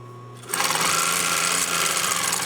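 After a short quiet moment, a sewing machine starts up and runs steadily and loudly at close range, stitching down fabric binding on a costume band along its fold line.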